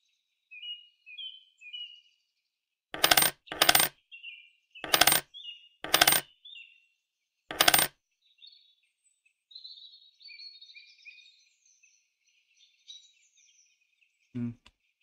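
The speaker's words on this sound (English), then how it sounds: "There's coins in here, yes." Coin pickups in a video game: five sharp metallic chimes in a quick uneven cluster, set among soft chirpy game tones.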